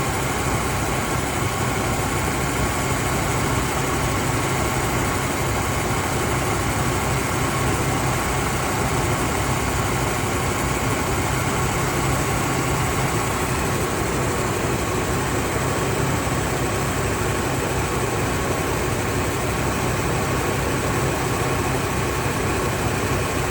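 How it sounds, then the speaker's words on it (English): A 2003 Chevy Trailblazer engine idling and ticking, heard as a continuous loud, dense, steady mechanical drone with no breaks and no separate ticks standing out. "So yeah, you notice it started ticking."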